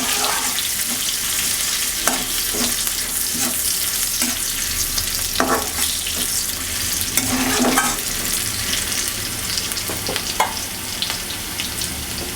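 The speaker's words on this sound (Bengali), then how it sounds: "ভালো করে পেঁয়াজটাকে ভেজে নেব।" Onion fries in a pan with a continuous close sizzle while a spoon scrapes and stirs at irregular intervals, ginger paste going in with it, with no voices over the cooking.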